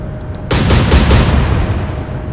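Naval gunfire from warships in the Atlantic Fleet video game, Royal Navy against Kriegsmarine: a sudden loud salvo of several rapid booming blasts, their roar rolling on and fading slowly afterward.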